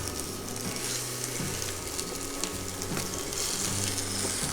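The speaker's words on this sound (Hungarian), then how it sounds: "Forró olajozott serpenyőben bőrrel lefelé elkezdjük pirítani a csirketombokat." Steady sizzling and crackling from chicken thighs frying skin-side down in a hot oiled pan runs continuously, with a low hum beneath it.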